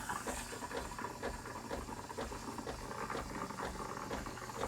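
Steam wand of a Delonghi La Specialista espresso machine frothing milk in a jug, a steady close hissing and bubbling roar with soft gurgling pulses, no talking.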